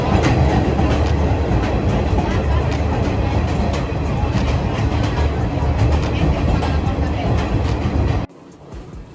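A train rumbles loudly and steadily through a tunnel in Sri Lanka, wheels clacking in a dense, continuous roar that drops abruptly near the end as it exits.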